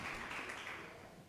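Faint audience applause at an independent film forum keynote, a soft steady patter of many hands fading gradually over a brief moment, distant and without talk.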